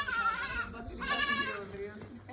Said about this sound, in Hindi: बकरी परेशान हो रही है उससे